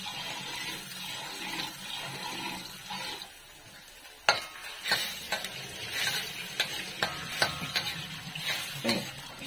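Garlic sizzles in a pan while being stirred, a soft constant frying hiss with a series of sharp scrapes and taps from the utensil, close up and fairly quiet, with no talking.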